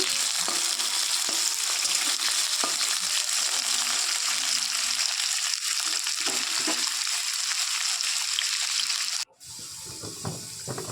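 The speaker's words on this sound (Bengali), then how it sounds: "আলুগুলো ভাজা ভাজা করে নেব" Potatoes fry in hot oil with nigella seeds in a pan, making a continuous close sizzle with light stirring that cuts off sharply near the end before faint sounds resume.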